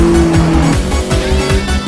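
A car engine in a mountain street race revs hard toward the red line, loud and close, with a rising roar and quick gear-change dips amid rushing road noise.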